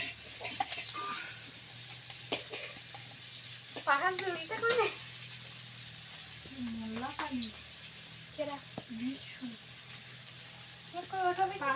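Heavy rain pours down in a steady broadband hiss throughout, with voices talking intermittently over it.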